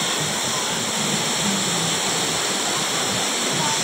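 Pinlac Falls, a cold-water waterfall, roars as a loud, steady, broadband rush of falling water, constant throughout with no speech.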